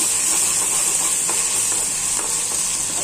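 Reddened onion frying as ginger and garlic go in, a loud steady sizzle and hiss with faint spatters, heard close with no voices.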